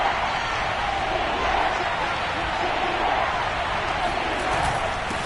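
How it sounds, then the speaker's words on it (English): A packed football stadium crowd roars during a third-down play at a Chicago Bears game, a dense, steady wall of cheering that stays loud and unbroken for the whole stretch, with no separate voices standing out. "this crowd's going to get even louder"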